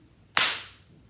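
A single sharp hand clap marks one quarter-note beat, loud and close, with a short ringing tail that fades over about half a second in an otherwise quiet room.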